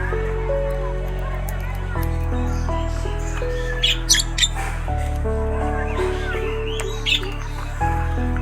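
Pet birds calling after two days of storm and rain: short chirps and squawks in a few quick bursts, mostly near the middle and end, over a steady droning tonal background.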